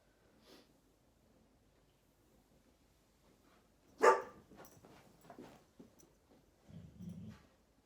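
A dog gives a single sharp bark followed by a few softer snorts and whimpering sounds in an otherwise quiet indoor room, fairly faint and somewhat distant.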